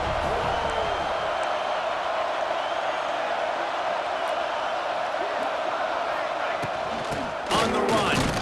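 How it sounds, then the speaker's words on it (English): Dense stadium crowd roar at a college football game, Oregon visiting Florida, a broad sustained wash of cheering under a commentator's voice, swelling briefly near the end. "This crowd bringing an ear-splitting welcome to their visitors."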